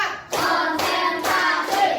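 Group hand clapping in a classroom ice-breaker, children clapping in counted bursts with short gaps between them, fairly close and steady, harmonic chanting voices mixed over the claps.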